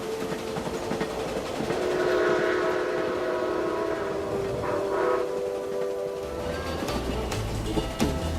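A steam locomotive whistle sounds in long sustained harmonic tones over the rumble of the moving train, with brief bursts near the end.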